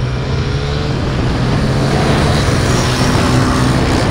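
Kawasaki KLX 110 and 140 dirt bikes racing a scooter, a steady loud engine drone with a low buzzing hum that holds constant throughout, no voices.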